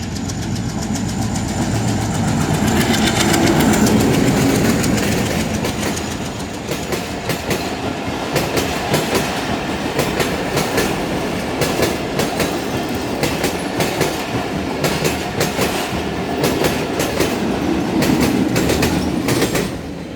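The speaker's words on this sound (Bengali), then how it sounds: "ট্রেন চলে আসছে।" A train with a double engine rolling past a railway crossing, starting with a loud rumbling approach, then a long run of rhythmic clickety-clack from the wheels over the rails, close and loud throughout.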